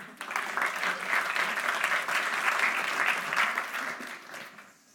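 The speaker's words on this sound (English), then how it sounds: "Give him a little round of applause." A festival audience breaks into a warm round of applause, swelling quickly, holding steady, then fading away near the end, with no speech over it.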